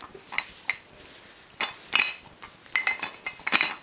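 A teapot slipped into a knitted tea cozy made on a knitting machine gives a series of light clinks and soft knocks of china, spaced irregularly across a few seconds, close by and fairly quiet.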